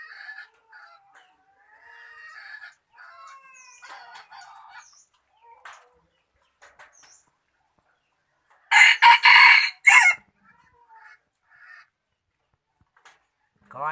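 A rooster bought from Đắk Nông gives one loud, close crow lasting about a second and a half, with softer clucking and bird sounds scattered before and after it.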